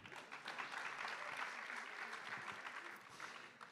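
Sustained applause from an audience at a national congress hall, a dense, even wash of clapping hands lasting the whole stretch without voices standing out.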